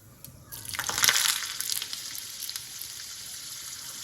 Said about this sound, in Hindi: सरसों के तेल में ये लौंग अच्छे से उबल रही है।